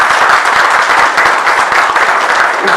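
Loud, dense audience applause welcomes a newly arrived district collector at a public function, continuous and close, sustained evenly for a few seconds.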